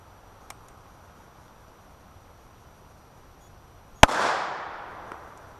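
A single sharp gunshot from a .45 Super handgun loaded with H110 powder, loud and close, with a short decaying echo trailing off into quiet outdoor ambience.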